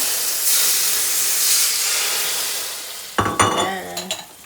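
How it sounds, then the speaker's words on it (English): A pan hisses and sizzles steadily as a small amount of liquid is added for brown chicken stock, a loud, bright wash of frying noise, then wooden spoon scrapes and stirring sounds break in near the end. "You want to see a little bit of a bubble and sizzle."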